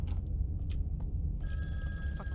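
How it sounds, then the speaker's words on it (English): A telephone rings in the video game In Sound Mind, a bright sustained electronic ring that starts partway through over a low, steady ambient rumble with a few faint clicks before it. "Why is the phone always gotta ring?"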